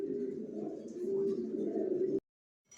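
Racing pigeons coo in a steady, soft, close-up warble for about two seconds before the sound cuts off abruptly into silence.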